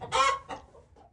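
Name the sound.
chickens clucking in a coop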